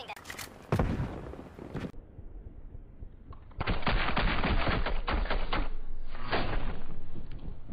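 Gunshots in the video game Call of Duty come as loud sharp bursts, with an early cluster of shots followed by a long sustained stretch of rapid firing and impacts, under dense game noise.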